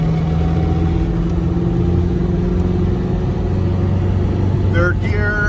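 A 1990 Range Rover Classic engine revving past 3,000 RPM while climbing a hill at speed, a steady loud drone with road and wind noise throughout.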